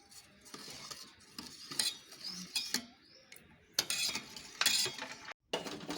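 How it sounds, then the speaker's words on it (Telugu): A spoon stirs salt into buttermilk in a bowl, tapping and scraping against the sides in quick, uneven bursts of clinks that are close and fairly soft, with no one talking. "ఇందులోనే మనం మజ్జిగలో ఉప్పు కూడా వేసి కలుపుకోవాలి బాగా"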